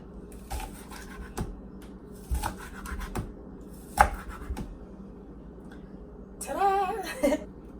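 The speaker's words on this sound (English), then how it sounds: "So now what I'm gonna do is just cut the ends off and just add this to the shrimp" A knife chops off the ends of green onions in a series of crisp, close cuts with short pauses between strokes, ending in a busier flurry of cutting noise.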